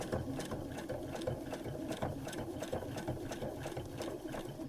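A sewing machine stitches steadily along the outline of a quilt block, its motor humming close and loud with a continuous rhythmic needle chatter and no pauses.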